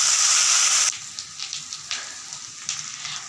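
Dried chillies, garlic, shallots and coriander seeds fry in sesame oil, starting with a loud bright sizzle that drops suddenly, then softer crackling with periodic stirring bursts, close up and without talking.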